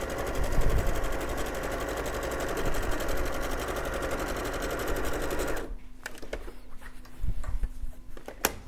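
A domestic sewing machine runs a steady, fast stitching buzz for over five seconds, then stops abruptly, followed by a few short bursts of reverse stitching and quieter handling noise while quilting a bag.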